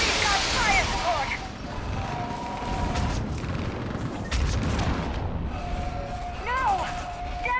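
Heavy artillery fire support in Mass Effect 3 sets off a booming barrage of explosions and blasts on the war-torn world Thessia, with repeated loud crashes and rumbles mixed with shouting voices and sci-fi weapon whines.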